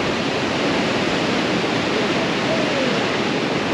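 Blustery wind roars steadily at the end of a seaside pier on a cold winter day, a loud continuous rush that masks everything else, with no other sound breaking through.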